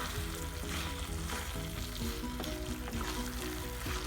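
Cubes of paneer frying in a kadai, a loud close crackling sizzle that runs continuously with no voices.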